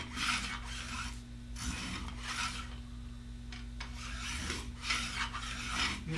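A Woodchuck taper plane shaves small flat spots around a wooden arrow shaft, giving repeated close raspy scraping strokes in a steady rhythm, each pass lasting about a second with brief pauses between, over a low constant hum.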